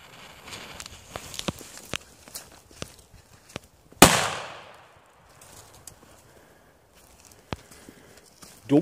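A single sharp bang from a late-1990s FKW Superböller A firecracker, dull rather than very loud, with a short fading tail, preceded by scattered light taps and footstep-like clicks, then quiet.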